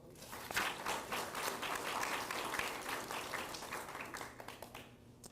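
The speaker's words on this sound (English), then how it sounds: "Let's give them a round of applause." A school district meeting audience applauds the Memorial Minutemen for their Salsa Bowl win, with a fairly quiet, steady round of clapping that swells, holds, then thins toward the end.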